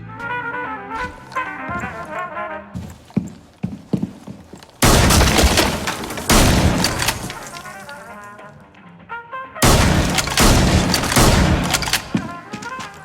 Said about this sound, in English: take a shotgun, blow a hole in the wall